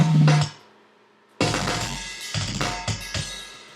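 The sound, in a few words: metal drum kit programmed in Logic Pro, multi-out playback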